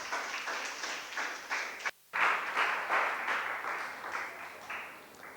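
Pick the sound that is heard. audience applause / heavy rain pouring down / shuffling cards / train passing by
audience applause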